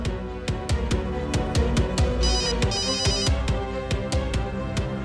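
A telephone rings in a steady, repeating electronic pattern of evenly spaced pulses, loud and close with no one speaking over it.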